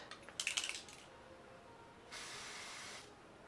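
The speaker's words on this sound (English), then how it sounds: "So I'm going to spray it on my brush." Makeup setting spray is spritzed onto a brush in a quick cluster of short, faint, close hissing puffs, followed by one longer soft spray.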